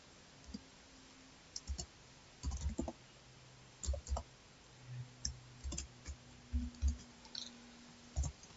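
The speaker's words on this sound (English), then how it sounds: "type the word or sentence." Keys clicking on a computer keyboard while text is typed into a Python program, heard as sparse, soft, irregular taps and short clusters in a quiet room.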